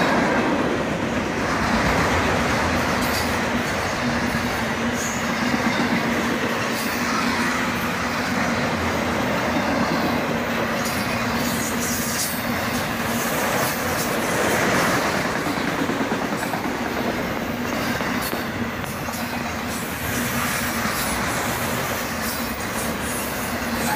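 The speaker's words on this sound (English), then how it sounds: "And two boxcars slipped into this autorack train." A CSX autorack freight train rolls steadily past, a long continuous rumble of wheels and rail noise with rhythmic clatter, close and unbroken throughout.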